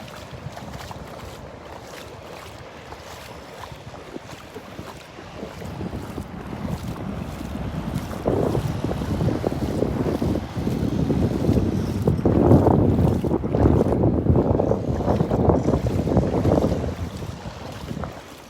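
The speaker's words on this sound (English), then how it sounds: "That wind is brisk." Brisk wind buffets the microphone on a beach, a steady roar that swells louder and gustier partway through, with surf faintly underneath and no talking.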